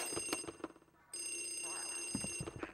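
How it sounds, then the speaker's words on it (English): Telephone ringing in the Luigi's Mansion video game, a bright electronic ring with sustained tones, heard amid game sounds and background noise. "There's another phone ringing?"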